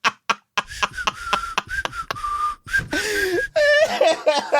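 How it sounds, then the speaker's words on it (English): A man whistling with his mouth wide open, producing a wavering, sliding tone in short bursts, close to the microphone, broken up by breaths, gasps and chuckles. "That's me whistling down the middle of my tongue."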